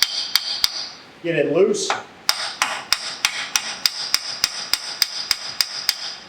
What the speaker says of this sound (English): Go ahead and tap the axle,